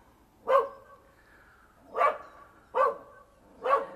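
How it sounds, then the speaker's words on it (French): A dog barks four separate times at moderate distance, single sharp woofs spaced irregularly over a quiet outdoor background at a campsite. "C'est un autre chien, je ne sais pas d'où."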